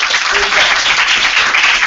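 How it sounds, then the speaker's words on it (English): Steady audience applause at a youth engagement summit for young panelists, a dense even clapping that fills the short stretch without pause. "Round of applause again for our young people."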